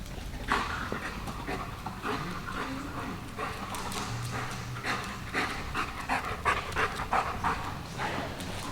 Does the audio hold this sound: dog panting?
yes